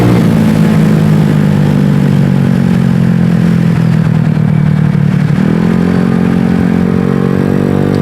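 Venom X18 scooter engine revving loudly and steadily while riding, its pitch holding then dipping briefly before climbing again, with constant road and wind noise and no talking.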